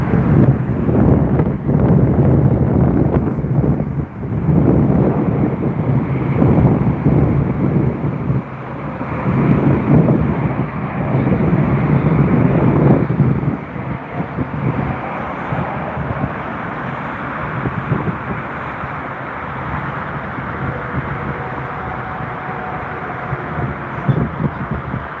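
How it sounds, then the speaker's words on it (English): A Sun Express Boeing 737 MAX 8 lands at Frankfurt Airport after a flight from Antalya. Its broad, steady engine roar is loud at first and eases to a lower rumble as it rolls out, with wind buffeting the microphone. "737 MAX 8 is arriving to Frankfurt in less than a minute."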